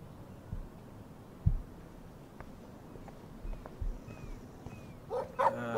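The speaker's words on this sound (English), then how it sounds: "No barking." A dog in the video game Life is Strange gives a few short, sharp barks near the end, with a single louder bark earlier, set against quiet ambient game sound.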